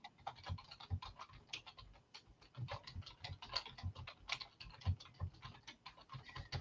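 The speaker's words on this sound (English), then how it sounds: "We have got to get you to start hitting the mute button when you're typing" Loud, aggressive typing on a computer keyboard heard over a podcast line, with quick irregular clicks and key taps in an uneven pattern, fairly close but low in level, with no one speaking.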